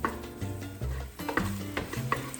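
Carrots cook in a pan with brown sugar and garlic over low heat, giving a soft, quiet sizzle broken by several scraping stirs and light knocks of a utensil, with no talking.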